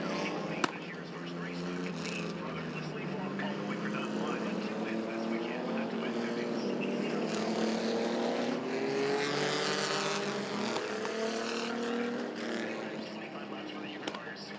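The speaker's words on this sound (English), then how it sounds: "Gentlemen, start your engines!" Several race car engines start, roar and rev together at Langley Speedway, their pitch climbing and shifting in a loud, sustained mechanical drone.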